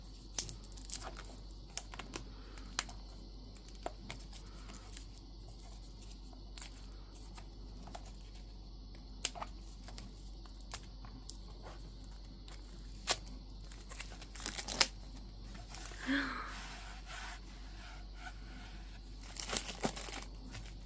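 Careful unwrapping of Matt Notebook 2025 planners, soft plastic crinkles and light ticks scattered throughout, close but quiet, rising to denser rustling near the end, with no speech.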